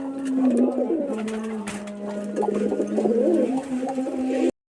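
Rajshahi Giribaz pigeons cooing close by, a continuous run of low, throaty, warbling coos that overlap with little pause before cutting off abruptly.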